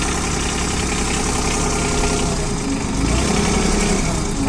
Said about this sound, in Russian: Двигатель у нас здесь трехцилиндровый, естественно, дизельный, с механическим ТНВД